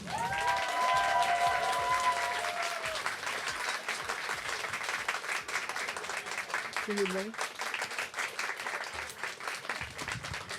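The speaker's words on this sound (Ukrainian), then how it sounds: "ваші шалені, бурхливі овації" A live talk-show audience in Larnaca, Cyprus breaks into an ovation of applause and cheering as a guest is welcomed. A loud, sustained crowd roar opens with a brief musical tone and continues as a thick layer of clapping.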